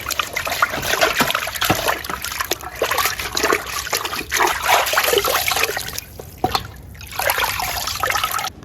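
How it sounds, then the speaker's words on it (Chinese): Running water trickles and splashes over a raw lamb leg being rinsed by hand under a tap, a continuous close wash with small splatters. "把羊腿洗一下"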